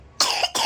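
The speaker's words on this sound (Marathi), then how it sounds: "खोकला" A single close, loud cough bursting out in two quick harsh pulses, heard alone in a quiet room.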